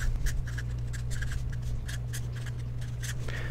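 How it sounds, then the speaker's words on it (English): A pen scratching out the sine law formula on paper, a quick series of short strokes close up, steady under a low constant hum with no talk. "So I'm going to write out the formula"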